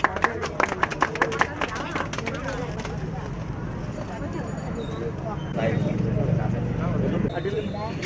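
A short run of hand claps at the start, quick and close, then fading into a murmur of voices and crowd noise at an outdoor gathering.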